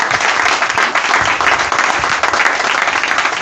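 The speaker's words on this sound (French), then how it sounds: "Je vous demande de l'applaudir très fort." An audience applauds loudly in a hall, a steady, dense wash of many hands clapping at once for the full stretch, close and sustained without a break.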